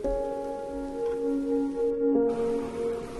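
Heavy rain in the game Raison d'etre patters steadily and evenly throughout, a constant hiss beneath sustained musical tones.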